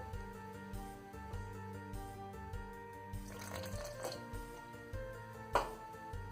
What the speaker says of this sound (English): Adding little water.